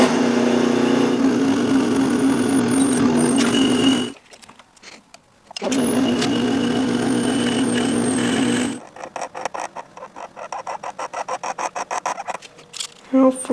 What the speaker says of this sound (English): I'm gonna go set up my drill press, and I'm gonna get ready to drill and tap some holes.